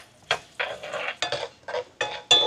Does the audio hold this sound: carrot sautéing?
yes